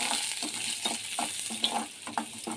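Boiled pasta stirred in a hot oiled wok, the same pan used for boiling, giving a steady sizzle broken by repeated scraping strokes of a spoon, close and alone.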